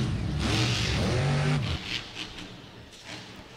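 A monster truck revs loudly during a freestyle run at Camping World Stadium in Orlando at the 2022 World Finals, a strong rising roar that cuts off sharply partway through, leaving quieter crowd noise and rumble.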